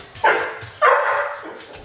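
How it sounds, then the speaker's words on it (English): A dog barks twice nearby, loud sharp barks spaced apart, followed by a softer third yelp; no talking. "My dog's barking."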